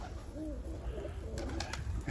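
A tumbler pigeon cooing in low, rolling calls, close and fairly faint, followed by a few light rustles or wing sounds.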